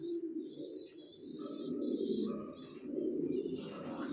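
Young racing pigeons kept in a breeding loft coo softly in low, rolling phrases, with a few higher chirps mixed in, close by and continuous in a quiet space.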